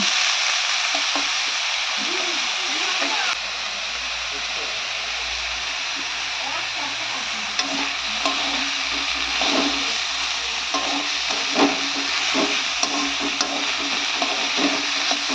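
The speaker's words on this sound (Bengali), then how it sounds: "তো দেখতে পাচ্ছেন বন্ধুরা পালং শাক ভাজা হচ্ছে।" Spinach fries in a pan with a continuous broad hiss and scattered crackles and stirring knocks, while faint voices murmur in the background.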